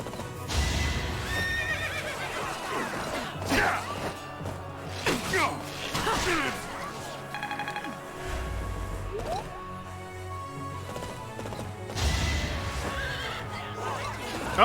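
Repeated horse neighs and whinnies from a Fire Emblem: Three Houses battle, with clip-clop hoofbeats and occasional whooshing strikes and game effects, loud and close throughout the stretch.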